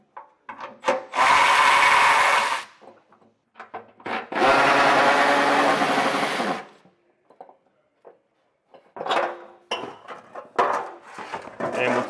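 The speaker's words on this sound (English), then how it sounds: "I got a 10mm socket. I'm going to get these 3 bolts removed." A power tool with a 10mm socket spins out heat shield bolts under a 2025 Toyota Corolla, giving two long whirring runs and a shorter burst at the end, with clanks and handling noises between them.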